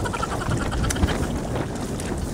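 Steady, rough wind buffeting the microphone with a low roar throughout, a few gusty bumps and faint background sounds, no talking.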